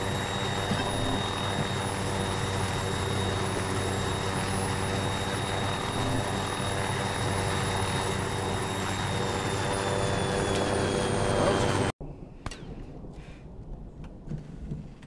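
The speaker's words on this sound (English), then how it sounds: "Chopper." Arma 3 helicopter rotor and engine roar, loud and steady for about twelve seconds with rising whine harmonics, then cutting off abruptly into quieter game ambience.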